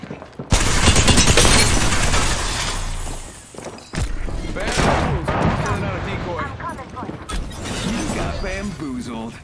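A grenade blast and a sharp volley of gunfire in the battle royale game Apex Legends, a loud burst that cuts off, then renewed shooting with clatter and ability effects over the din while a voice talks through it.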